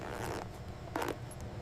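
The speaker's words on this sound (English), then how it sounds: "Zipper movement is smooth," A zipper on a Grey Brahman bull horn product slides open and closed in a factory, two short close rasps separated by a pause, soft and alone.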